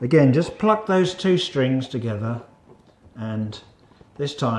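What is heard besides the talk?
No everyday noise stands out behind the speech.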